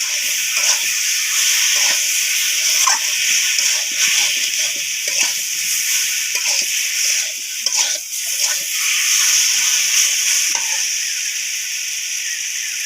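Chalta pickle with sugar cooking slowly over a low flame, giving a steady soft sizzle and hiss with faint stirring scrapes throughout, close by and continuous with no talking.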